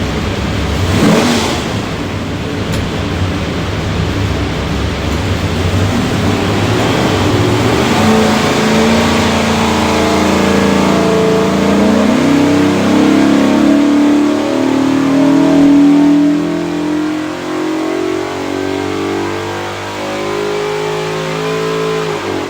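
A 427ci small block Ford V8 with Holley Terminator X fuel management, built for a '96 Bronco 4X4, revs on a dyno: a loud, close, steady roar that climbs in pitch through a long pull, then eases off.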